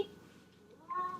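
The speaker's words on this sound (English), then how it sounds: "I think my cat wants to get out." A house cat meows indoors, a short drawn-out call near the end after a quieter stretch of room noise.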